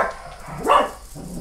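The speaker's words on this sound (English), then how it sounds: "my dog," A single dog bark rings out at moderate distance, a short yelp-like burst standing out above a quiet, steady room background.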